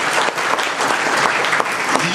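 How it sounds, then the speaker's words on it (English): An audience at an evening event gives a round of applause for the master of ceremonies, a brief burst of dense, steady clapping from many hands, close and loud. "A round of applause for Pete."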